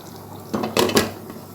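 A metal lid is set onto a pot of simmering fish curry, producing two or three quick close clinks and clatters over a faint bubbling background.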